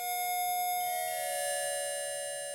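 A sustained synthesizer patch from a MASK1 bitmask oscillator: bright, stacked harmonic tones that shift pitch partway through and hold steady, with no voices.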